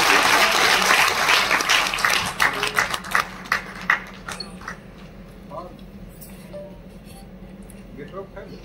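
Enthusiastic applause from a crowd at a political speech event in Mumbai, starting dense and loud, then thinning into scattered claps that fade as a voice begins speaking.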